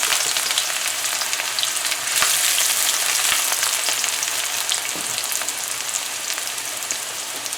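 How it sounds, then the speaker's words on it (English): Onions fry in hot oil in a karahi, a loud, close, continuous crackling sizzle with scattered pops and faint stirring clicks, no talking. "We're gonna let our onions fry a little bit."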